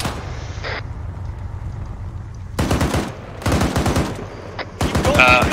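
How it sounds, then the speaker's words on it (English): Bursts of automatic gunfire crackle in a military video game operation, three loud rapid volleys separated by short pauses over a low ambient rumble, with a faint voice in between. "We're taking fire."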